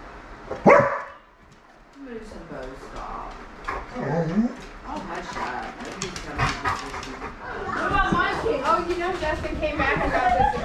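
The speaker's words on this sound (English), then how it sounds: "Every time somebody rings the doorbell, these dogs are going nuts." Excited dogs set off by a doorbell on Halloween in Fairbanks, Alaska, bark and whimper close by, with a sharp early bark and then an ongoing run of yips and barks mixed with people talking.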